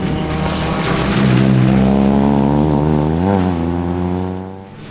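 A J1000 VW Up rally car races through a winter rally stage near Enniskillen, its engine loud and close with a rising and falling high-revving drone, then fading away.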